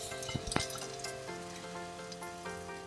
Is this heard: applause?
no